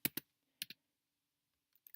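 A computer keyboard is tapped while typing a command-line command. There are a few crisp, separate key clicks in short clusters, with quiet gaps between them, heard close up.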